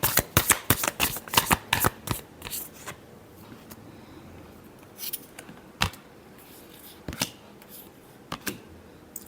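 Tarot cards are shuffled in a rapid burst of crisp riffling clicks, close and loud, then a few scattered single card snaps over a quiet room.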